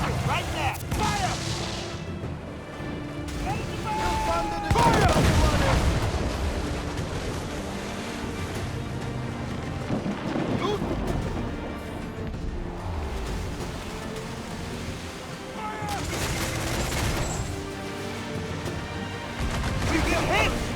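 Naval battle in Assassin's Creed Freedom Cry, with heavy ship cannon blasts and crashing impacts booming at intervals over sea and ship noise, while crew members shout orders throughout.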